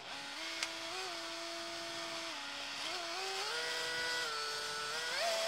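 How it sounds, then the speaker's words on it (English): A power drill spins a steel mixing rod with a nylon paddle through clear resin, giving a steady close motor whine whose pitch steps up and down as the speed changes, running continuously with no talk. "It's just a steel rod with a nylon twiddly bit at the end, and you put it into your drill and mix it together."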